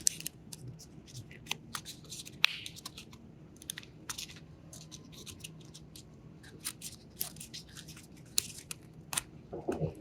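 Origami paper is folded and creased by hand, giving soft, sparse crinkles and sharp little snaps close up in a quiet room.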